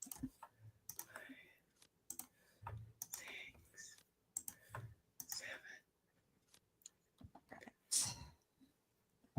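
A single sharp, loud sneeze near the end of a quiet indoor chat, after scattered soft clicks and murmured talk.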